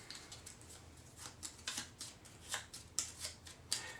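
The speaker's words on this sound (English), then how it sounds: "So I've just shuffled the evil cards." A deck of Runewars game cards is shuffled by hand, giving a faint, soft, irregular series of riffling flutters and light clicks up close.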